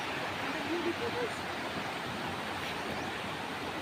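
Canding Falls and the river below it give a constant roaring wash of water, close and even, with a brief faint voice near the start.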